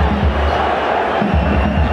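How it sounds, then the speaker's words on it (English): A large football crowd of Reds supporters at an A-League match between Adelaide United and Melbourne Victory, a loud continuous roar filling the stadium, with a commentator's voice faintly underneath. "Crowd really get into this contest."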